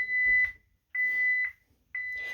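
A security alarm keypad sounding its exit delay: three evenly spaced electronic beeps, each about half a second long, with short silences between them, clear and close in a quiet room.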